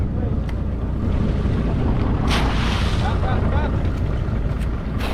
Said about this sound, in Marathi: समुद्राच्या लाटा पण बघा कसा वर खाली होतात